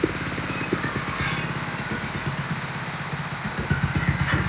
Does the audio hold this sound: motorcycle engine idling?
yes